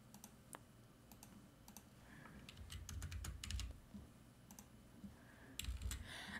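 Rapid clicks on a computer keyboard as a name and date of birth are entered while setting up a Spotify account, coming in uneven bursts of keystrokes with short pauses and no voices.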